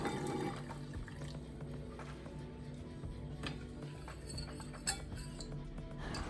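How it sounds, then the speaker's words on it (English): A spoon clinks against a bowl while hot water is stirred to dissolve white sugar for a steamed cake batter, soft scattered taps and light swishing at close range, with one sharper clink near the end. "Now dissolve the sugar with 1 cup of hot water."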